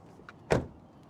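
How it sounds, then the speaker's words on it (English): A 2024 Subaru Crosstrek Sport door shuts with one solid, muffled thud, close and sharp with a quick decay, preceded by a faint click of the latch, no voices. "let's listen to the sound of the closing door"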